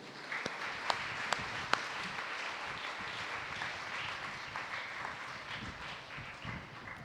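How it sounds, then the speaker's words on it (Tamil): A church congregation at a Tamil Catholic flag-hoisting feast Mass claps in thanks, a faint, distant, sustained patter of many hands with a few sharper, louder claps standing out early on. "கைத்தட்டி நாம் நன்றி சொல்வோம்"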